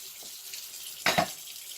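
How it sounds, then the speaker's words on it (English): Cold water from a kitchen sink tap pours into a pot in a short burst of about a quarter second, fairly close and moderately loud over a quiet room. "I'm going to grab this and bring it over to this sink, and I'm just going to fill this with cold water."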